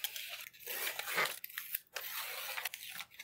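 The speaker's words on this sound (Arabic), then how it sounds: "بعدين قصيت الزوايا كلها بالشكل ده كده" Scissors snip and crunch through the corners of a cardboard box wrapped in paper over double-sided tape, giving close, rough cutting and tearing sounds in uneven strokes with brief pauses; no talking.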